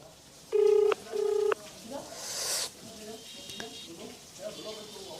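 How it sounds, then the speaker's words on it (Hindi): Two long steady telephone dial tones sound one after another, followed by softer clicks and faint background noise. "एसपी साहब को हमने तीसरी बार फोन लगाया है"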